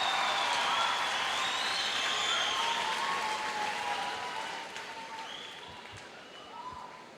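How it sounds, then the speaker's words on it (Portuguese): A large audience at the Onda Dura 2017 church conference applauds in a dense, continuous wash of clapping that slowly tapers off toward the end. "Aplauda mais forte o nome de Jesus"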